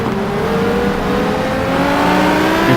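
A simulated racing car engine drones loud and steady at Spa in a sim GT endurance race, its pitch gliding up and down as the throttle is eased on and off, with no voices.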